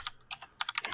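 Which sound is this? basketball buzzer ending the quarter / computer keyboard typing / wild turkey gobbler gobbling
computer keyboard typing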